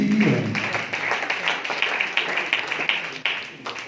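Moderate applause from a university quiz audience after a correct answer, a few close claps ringing out over a thinner spread of clapping that tapers slightly toward the end.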